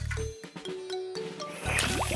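A cartoon hand water pump is worked to water flowers, giving short squeaky, gurgling and splashing bursts of water in a quick cartoon sequence.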